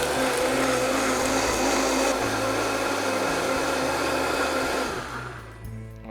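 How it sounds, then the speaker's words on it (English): A blender runs loudly on high blending tomatoes with a steady whirring roar, then winds down near the end. "plop them down into our blender and we're gonna blend this up on high till it's completely a liquid"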